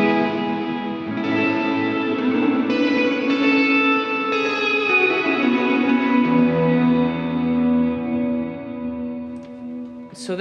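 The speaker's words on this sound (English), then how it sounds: "you have huge reverb, and it's really good for swells and things like this" Electric guitar played through an Axe-Fx II with a huge ambient reverb heavily mixed over the dry signal: sustained, washing chords and swells that bloom and blur together, with a long decaying tail and no talking.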